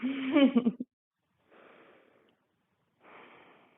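Slow breathing during a yoga pose, with a voiced breath or sound at first, then two soft airy exhales that come and go alone in a quiet room.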